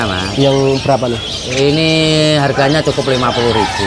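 Low cooing of zebra doves sits beneath a close conversation between two people, the calls partly buried by their voices.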